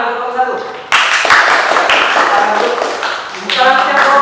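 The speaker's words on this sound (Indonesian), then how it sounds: "kalau tidak ada mungkin tepuk tangan untuk kelompok satu" A classroom group claps for group one, broadband clapping rising sharply after a brief pause, dense and fairly loud, with voices mixed in under it.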